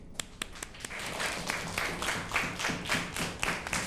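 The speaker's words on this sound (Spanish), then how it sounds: "Démosle un aplauso de bienvenida." Schoolchildren in a classroom clapping to welcome a new student, with a few sharp isolated claps first, then scattered uneven clapping from a small group, fairly faint.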